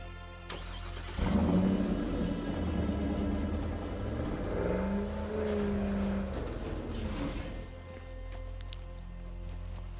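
A video game vehicle pulling away from a base, its engine starting up and revving into a steady, rising mid-pitched drone that swells, then fades to a quieter hum.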